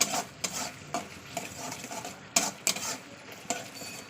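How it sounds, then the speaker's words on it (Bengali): Taro, egg and potato are stirred and fried in a pan, with repeated scraping strokes of a spatula over a faint sizzle at close range. "মটরটা কষে নে আর ডিম আর কচুটা দিয়ে কষিয়ে নেবো নিয়ে আলুটা দিয়ে আবার কষাবো"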